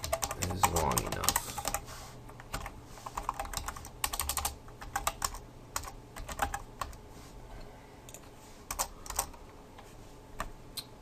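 Rapid keyboard typing while Ruby test code is written, a steady run of close, crisp keystrokes in uneven bursts, with a louder scuff near the start and no speech.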